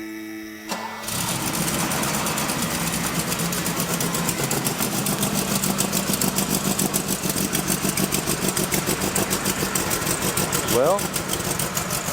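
After a short crank, a car engine catches and settles into a steady, even idle that runs on for several seconds, with a brief word spoken as it starts.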